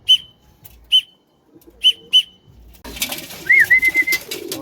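Racing pigeons cooing and calling near the loft, several short distinct coos first, then a busier stretch of bird calls with a whistled note over rustling activity.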